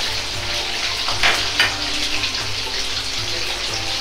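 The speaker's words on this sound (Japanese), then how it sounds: "ナスを揚げていきます。" Eggplant deep-frying in hot oil, a dense, loud, continuous bubbling hiss with a few brief clinks close by.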